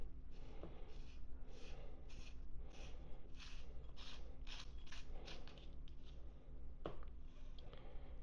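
A wrench works loose the crank bolt on a Shimano XTR bicycle crankset, giving a steady run of quiet mechanical clicks and ratcheting ticks close by, with one sharper click near the end and no talking.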